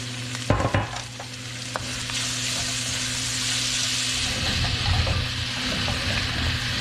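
Oil sizzles loudly in a pan for a beef stir-fry, a dense continuous frying hiss with a few sharp crackles near the start, close up and steady throughout with no talking.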